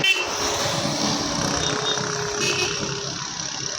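Machine engine running while lifting and setting an electricity pole, a steady moderate rumble with some clanking, outdoors and continuous throughout.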